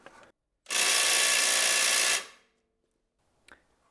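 Power tool loosening a bolt on the suspension strut of a Volvo V90 Cross Country, one loud steady burst of about a second and a half that then cuts off, with a short faint click afterward.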